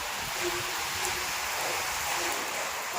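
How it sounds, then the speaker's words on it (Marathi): Rain falling outdoors over fields in Jalgaon, a steady dense hiss of drops that stays even and continuous at a moderate, fairly distant level, with no voices over it. "इथं पण छान पाऊस चालला आहे बा मस्त एकदम"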